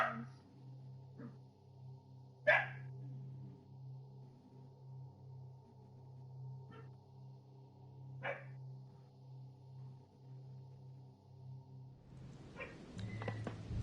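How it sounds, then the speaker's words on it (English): A pet dog barks indoors during a session of The Council video game, giving several sharp, isolated barks spaced seconds apart over a steady low electronic hum, with a burst of game noise near the end. "Sorry for my dog, guys."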